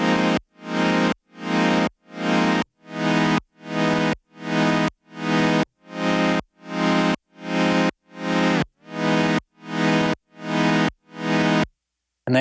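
Sequential OB-6 synthesizer chord pulsing in a steady rhythm of about fourteen beats, each swelling up from silence via a sawtooth LFO on the loudness to mimic sidechain pumping, then cutting off abruptly.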